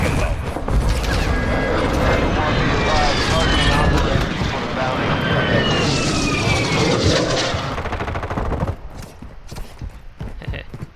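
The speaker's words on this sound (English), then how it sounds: "Requesting close air! Target marked! Copy that. Phoenix 2-3 is on station." A heavy close air support aircraft roar in Warzone DMZ, with whooshing and rumbling, fills most of the clip, with voices talking over it, then it fades to quieter sounds.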